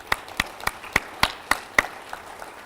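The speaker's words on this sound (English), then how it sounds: "Let's give him a round of applause." At a Memorial Day service, a few people clap for the official Georgia State bagpiper in a slow, evenly spaced run of sharp claps that thins out and fades after about two seconds.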